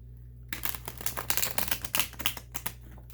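Rapid riffling and slapping of tarot cards being shuffled, a quick run of crisp clicks after a brief silence, close and fairly quiet.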